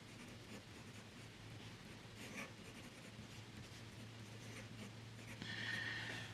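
A fountain pen loaded with Montblanc Midnight Blue ink scratches steadily across paper, close and quiet, in continuous soft strokes with no one talking.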